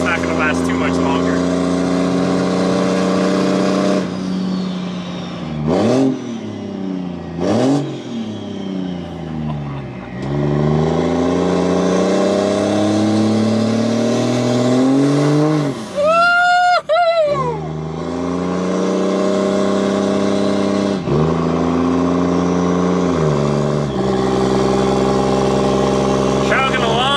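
A Cummins diesel truck with compound S400 turbos, converter lockup and a stock transmission accelerates hard through several gear shifts, engine roaring and turbos whistling loudly, with sharp shift dips and rising pitch, over a passenger's voice at times.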